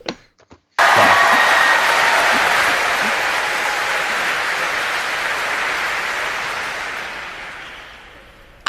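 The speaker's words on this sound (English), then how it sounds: "Please applaud." A large audience bursts into loud, sustained applause after a brief pause, holding a dense wash of clapping before gradually thinning and fading toward the end.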